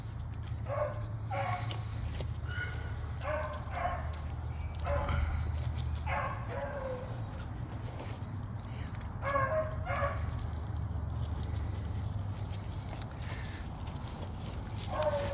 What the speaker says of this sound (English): Hello, puppies.